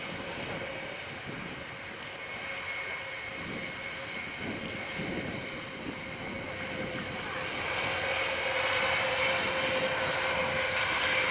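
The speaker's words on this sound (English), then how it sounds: "They're flying MSN-6, the 6th of the development aircraft." Development aircraft MSN-6 flying a display at the RIAT 2015 airshow at Fairford, a steady broad engine roar that holds throughout and swells a little louder toward the end.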